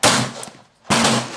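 Two loud, close gunshots from a .38 Special firing short loads, each a sharp blast with a lingering roll, about a second apart.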